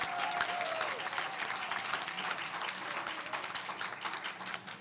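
A meeting-room audience breaks into sustained applause, dense clapping from many hands that holds steady and begins to thin toward the end, heard at moderate distance with no speech over it.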